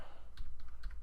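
A few quick keystrokes on a computer keyboard, soft clicks spaced close together over a steady low background hum, heard near and fairly quiet.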